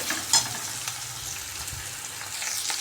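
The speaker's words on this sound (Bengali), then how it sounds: "ডিমটাকে ভালো মতন ভাজা ভাজা করে লাল লাল করে ভাজবো" An egg frying with onions in a pan gives a steady, close sizzle with a sharp clink of stirring near the start and continuous crackle throughout, no voices.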